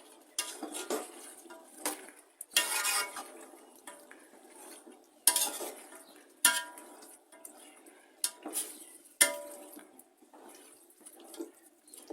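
Chicken and mutton with potatoes are sautéed in a pot for pulao, with a metal spoon scraping and clanking against the pot in irregular bursts and faint sizzling between strokes.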